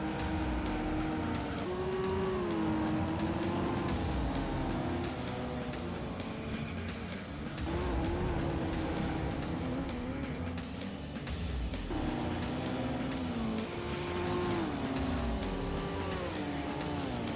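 Dodge Viper race car in Gran Turismo 3 racing against a JTTC car, its engine droning continuously and loudly with rising and falling pitch through gear shifts, with no talk.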